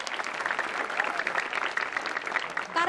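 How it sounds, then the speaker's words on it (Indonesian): Brief studio audience applause at a stand-up comedy show, moderately loud scattered clapping that holds for a few seconds before a voice cuts in at the end. "tepuk tangan lu dong buat Bang Ge."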